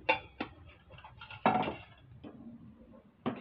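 Paneer butter masala curry with sugar being stirred in a pan, a spoon knocking and scraping against the metal in a few separate clinks and scrapes, close and fairly quiet, no talking.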